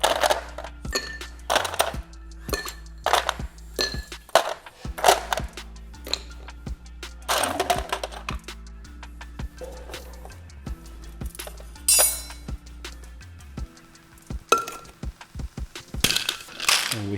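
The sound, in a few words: ice scooped into a glass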